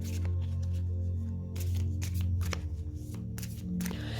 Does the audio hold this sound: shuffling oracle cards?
yes